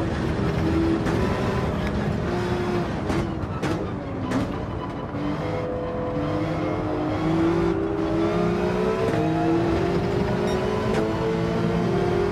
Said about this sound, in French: Là, je lâche juste l'accélérateur.